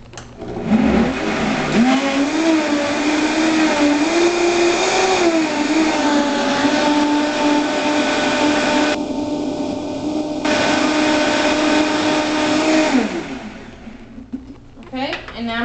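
A countertop blender whirs loudly through a green smoothie of fruits for about twelve seconds, the motor pitch wavering slightly, then it winds down to a stop.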